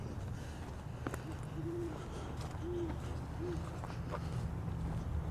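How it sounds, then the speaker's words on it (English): Three low, soft hoots from an owl, spaced a second or so apart, over a steady outdoor hum. "It's not often you get to see an owl."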